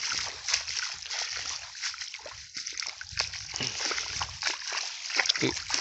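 Water from a pump motor gushes and splashes into a berseem fodder field in rural Punjab, a continuous close sloshing rush with voices cutting in at times.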